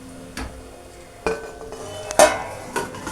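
Metal clatter in a home kitchen as a lid goes onto a pot of tomato rice, several sharp clinks and knocks spread over a few seconds, fairly close, with no talking.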